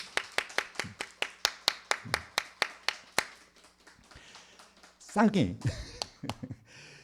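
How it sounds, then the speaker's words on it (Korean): A church congregation at Sunday worship claps in steady rhythmic unison for about a dozen sharp beats, then the hall goes quiet before a voice begins speaking. "격려의 박수"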